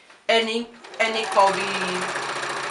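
A sewing machine runs stay stitching along the curved edge of a circle skirt, starting in two short bursts then holding a steady whirring stitch, with a person talking over it.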